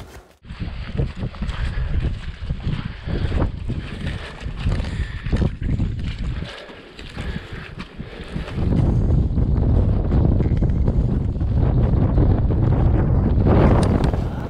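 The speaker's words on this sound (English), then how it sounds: "it's even windier than it was yesterday" Strong wind gusts on an exposed hilltop batter the microphone, roaring and buffeting in waves, growing heavier and more constant in the second half.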